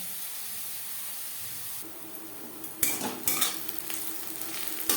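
Chopped onions fry in hot oil in a pan for a snake gourd stir-fry, making a steady close sizzle that is interrupted midway by sharp utensil clatters and stirring bursts.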